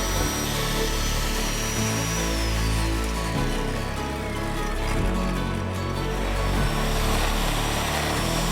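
A lawn edger runs close by with a loud, steady motor drone that holds without a break the whole time.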